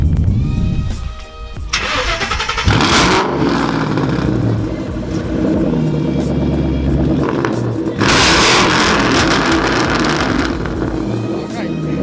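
A loud 4-cylinder EcoBoost-swapped Camaro engine starts and revs hard in repeated surges, roaring close by, with shouting voices mixed in over the noise.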